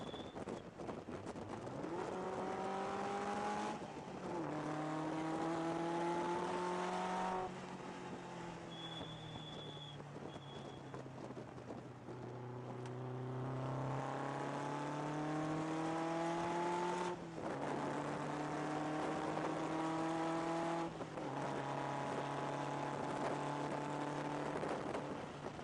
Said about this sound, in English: This car is very powerful and very fast.